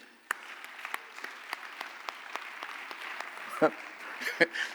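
A church congregation claps together, a steady patter of hands with a few sharper accents, while a voice carries on over the applause.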